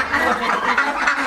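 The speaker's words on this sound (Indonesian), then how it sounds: "Simson Panjaitan melakukan kerjasama peternakan bebek dengan jumlah 30 ekor bebek di Desa Hinalang, Kecamatan Balige." Ducks on a small farm of about 30 birds in Desa Hinalang, Balige, give a short burst of raspy, close quacking.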